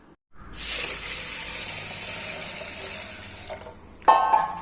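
Water pours steadily into a vessel of chana dal and rice set to soak, a close continuous hissing splash lasting several seconds, followed by a short clatter as the pouring stops.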